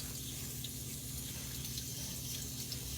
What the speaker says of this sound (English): And we're just going to rinse, rinse, rinse.